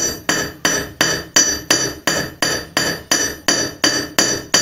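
Steady hammer blows strike an annealed metal sheet during jewelry-making, about two and a half per second, each a sharp ringing clang that decays quickly, close and alone.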